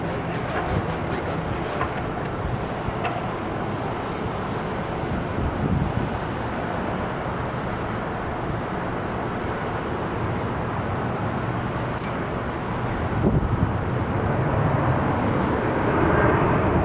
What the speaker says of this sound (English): Gorgeous A350.